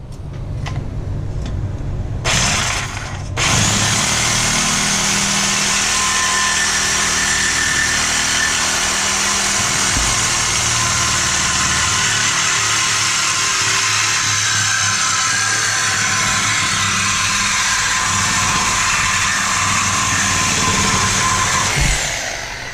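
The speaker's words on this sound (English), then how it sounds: "So we're going to go ahead and cut that off now." A power saw cuts through the exhaust pipe by the muffler of a 2019 RAM 1500 pickup, a loud, steady high-pitched whine running almost unbroken for about twenty seconds after a brief start.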